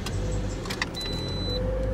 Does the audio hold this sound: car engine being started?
yes